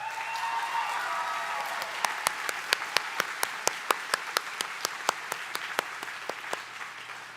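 A graduate commencement audience gives scattered applause that thins into a run of sharp, separate claps from a few nearby hands, fairly close.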